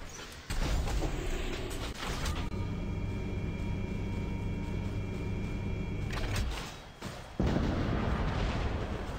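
Heavy weapon blasts in the War Robots mech combat game, with a booming shot near the start followed by a sustained rumbling roar, a brief dip, then another loud burst near the end.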